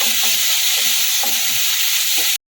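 Vegetable filling for a veg quesadilla stirred in a hot pan, a continuous loud sizzle with rhythmic scraping strokes of a spoon against the pan, close up and alone, then cut off abruptly at the end.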